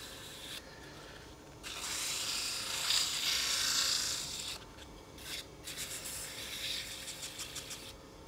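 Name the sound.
sanding turned wooden candle holder with 400 grit sandpaper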